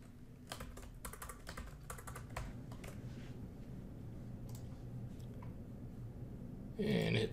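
Computer keyboard typing as an admin password is set in QuickBooks point-of-sale software: quick bursts of close, crisp key clicks with short pauses, ending in a louder flurry of keystrokes.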